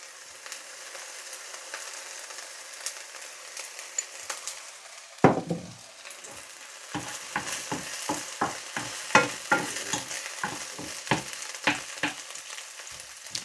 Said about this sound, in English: Now it's just a matter of softening the onions. And I will put a bit more regular oil in.